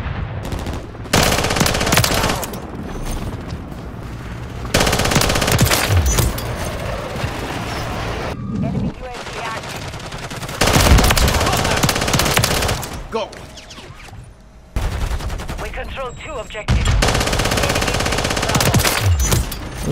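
Submachine gun fire in a video game rattles out in repeated fast bursts, loud and close, with short gaps between volleys and some quieter game sounds in between.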